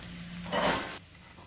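Red curry sauce for shrimp cooks in a pan, with a short, brighter sizzle burst in the middle as it is stirred, then settling back to a low simmering hiss.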